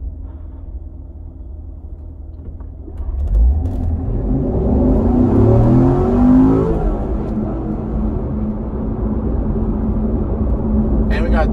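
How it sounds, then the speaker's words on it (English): A C7 Corvette accelerates from about 5 to 40 mph in first gear with a performance air filter installed. A steady idle swells into a loud, rising engine roar from about three seconds, then stays loud and sustained. "Gonna do the 5 to 40 mph acceleration run here."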